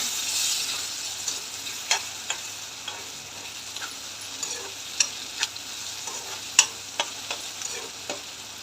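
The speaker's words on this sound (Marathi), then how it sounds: "एक चमच जिरा पावडर आणि बारीक चिरलेला टमॅटो चांगल्या प्रकारे मिक्स करून घेऊया" Cumin powder and finely chopped tomato stirred in a pan for a dry fish dish, with a steady low sizzle under scattered clicks and scrapes of a spoon against the pan.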